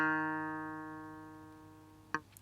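A single clavinet note from GarageBand for iOS, with the damper set to zero, rings out and slowly decays, quiet and alone, before a short click near the end.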